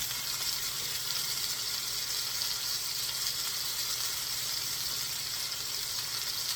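Veal searing in a hot pan on a home stove, a steady, dense sizzle that holds evenly throughout with no pauses.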